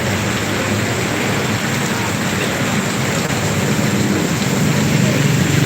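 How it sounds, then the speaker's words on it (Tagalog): Heavy rain pouring in Gubat, Sorsogon, Bicol during a stormy morning, a dense, constant roar of downpour without letup, loud and close throughout. "i-live ko kaya itong lakas ng ulan dito"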